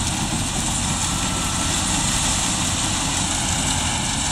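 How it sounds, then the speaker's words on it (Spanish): Sugarcane harvester and tractor at work in a field, their engines giving a loud, steady, close droning roar that holds unbroken with no talk over it. "Anda la cosechadora y anda el tractor con la primera gansada"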